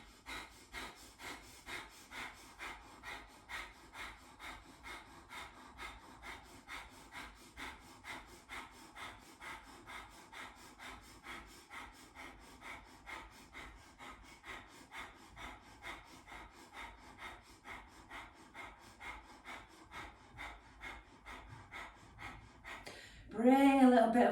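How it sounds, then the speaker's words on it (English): Kundalini yoga breath of fire: a long train of rapid, even, forceful nasal exhales pumping steadily, close and soft, ending with a short louder voiced sound. "Breath of fire is naturally happening, pumping the navel, as the breath moves rapidly in and out of the nose."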